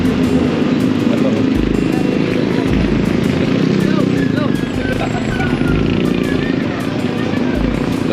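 Motorcycles and other traffic roar steadily past on a road in Pampanga, a continuous loud engine drone with a few louder surges, while people talk over it throughout.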